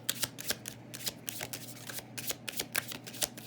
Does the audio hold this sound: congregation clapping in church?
no